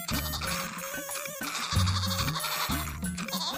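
A goat bleats repeatedly while being milked with its hind legs tied, and the cries sound close over a steady, busy background of ambient noise.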